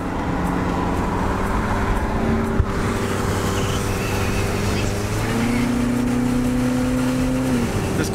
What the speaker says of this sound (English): This car sounds so much better with the top down.